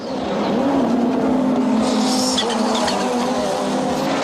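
A 1989 Audi 90 GTO race car engine in the iRacing sim sounds a loud, sustained growling drone with a rising revving tone, constant and close throughout.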